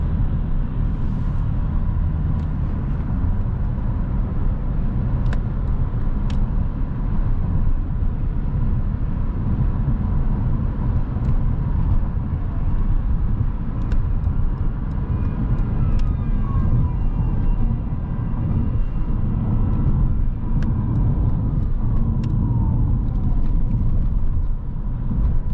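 An Alfa Romeo 159 1.9 JTDm with a 150 HP diesel cruises on the autobahn, giving a steady, loud low-pitched drone of engine, tyre and road noise that runs unbroken throughout.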